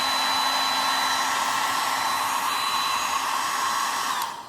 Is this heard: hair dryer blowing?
yes